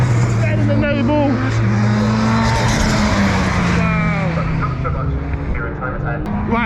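A Noble race car passes during time attack qualifying at Anglesey circuit, its engine droning loud with shifting pitch, while a commentator talks excitedly over the top.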